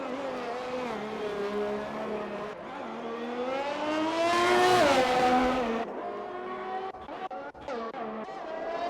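F1 race car engine in the F1 2021 video game at Italy, a loud, steady onboard whine climbing through the revs to a peak, then dropping sharply and stuttering through quick gear changes, alone with no talk.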